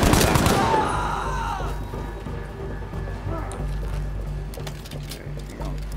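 Gunfire in the World War II shooter Battlefield V, a burst of loud shots at the start settling into scattered distant shots over a low rumbling game soundscape.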